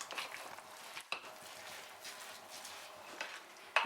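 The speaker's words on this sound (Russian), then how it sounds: "Перемешиваем начинку." Pumpkin pie filling with lemon juice is stirred, giving a quiet, soft scraping texture with a few faint clicks against the bowl, unhurried and close, with no talk.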